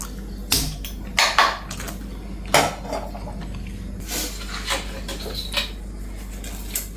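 Metal cooking vessels are set down and handled in a home kitchen, with a series of sharp clanks and knocks, some spaced out and some in quick pairs, close by and without speech.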